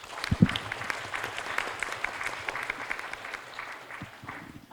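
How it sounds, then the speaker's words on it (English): An audience at a forum panel applauds steadily for several seconds, a dense wash of clapping hands that holds an even level throughout. "may I ask you to join me to give an applause to the panelists"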